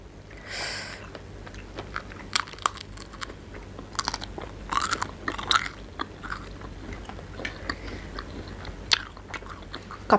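Crunchy chewing of a Thai crispy pancake (khanom buang), with repeated close, sharp bites and crunches spread irregularly across the stretch, loud and near with no talking.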